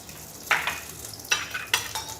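Garlic dropped into hot oil in a pan for a pork rib and radish stew, giving three sharp sizzling bursts that fade between them, close and fairly quiet with no talking.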